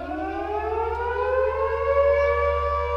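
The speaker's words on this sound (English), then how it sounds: "that's our volunteer fire services siren" A volunteer fire service siren in Te Puke, New Zealand wails loud and steady, its tone rising slowly over a constant low hum, with no voices.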